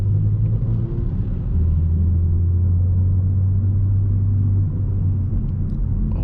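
A car fitted with a catless downpipe and full exhaust, heard from inside while driving: a loud, steady, low droning rumble that holds throughout with only slight shifts in pitch.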